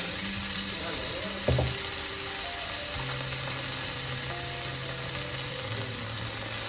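Spice paste frying in a pan makes a continuous sizzle, with a brief clatter of stirring partway through and a faint hum underneath.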